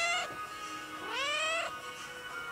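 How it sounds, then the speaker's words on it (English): A house cat meows twice, a short cry followed by a longer rising, drawn-out meow, loud and close with little else around it. "this is her cat"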